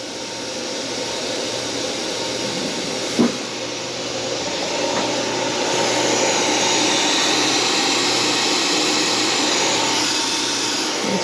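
A ShopBot CNC machine with automatic tool changer moves during calibration, a loud continuous whooshing whine with steady hiss and a brief knock near three seconds, sustained throughout an eleven-second stretch.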